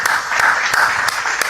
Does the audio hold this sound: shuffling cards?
no